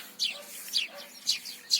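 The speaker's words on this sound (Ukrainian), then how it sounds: "Ой, боже, горобці б'ються." House sparrows chirp sharply in quick bursts, several squabbling, fighting calls close by over a quiet background.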